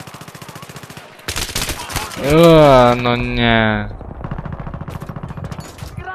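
Rapid bursts of gunfire crackle in Battlefield 3, with a voice speaking over part of it and continued shots afterward.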